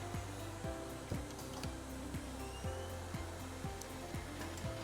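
A Semitool spin rinse dryer runs a mask chamber with a steady mechanical whir and a regular rhythmic ticking pulse about twice a second, moderately close with no talk.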